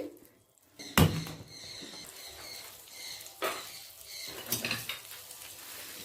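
Garlic and butter tempering for an egg tarka sizzles in a pan on a gas stove, a quiet crackling hiss with a sharp burst early on and a few smaller flare-ups after.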